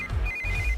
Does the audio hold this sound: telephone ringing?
yes